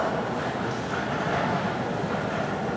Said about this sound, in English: Is there a train going through?